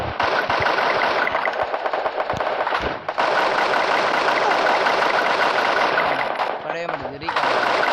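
Assault rifle gunfire from a video game rattles in long, rapid continuous bursts, loud and close, with a brief break midway and a short gap near the end.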